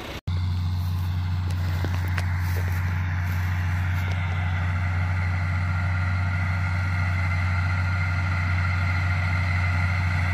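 A farm tractor engine working in a hay field, a loud, steady low drone that holds constant for about ten seconds, close up with faint rattles on top.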